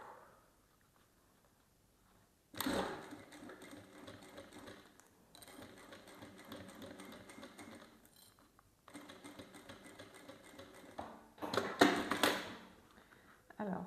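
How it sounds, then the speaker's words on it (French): Sewing machine stitching fabric one centimetre from the edge for a coin purse, bursts of fast rattling stitches in several runs separated by short pauses, with a voice speaking quietly between and over them. "Et à 1 cm du bord, au niveau du trait, on coud."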